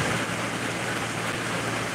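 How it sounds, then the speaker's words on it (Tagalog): Heavy rain pours down as a dense, steady hiss of roughly even loudness throughout, with no other sounds standing out. "Grabe ang ulan."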